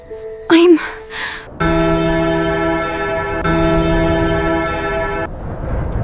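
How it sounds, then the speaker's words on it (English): A palace bell tolls at midnight. It gives two deep, resonant strikes whose humming overtones sustain for several seconds, preceded by a short burst of vocal and rustling noise. "the palace bell rang out"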